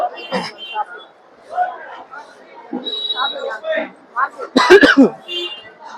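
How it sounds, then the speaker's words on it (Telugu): A woman coughs and clears her throat in a few short, close bursts near the end, with conversational talk happening around the coughs. "దగ్గుకి చచ్చిపోతున్నా ఇక్కడ"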